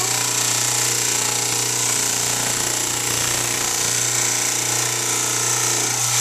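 Lapidary saw cutting a soft rock slab freehand, a loud steady grinding whine with a constant low hum, running continuously and alone throughout.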